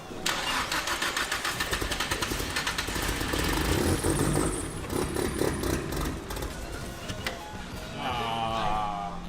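A car engine turning over for its first start after maintenance, with new injectors fitted on the stock ECU, then catching and running loudly at close range with rough, uneven revving throughout.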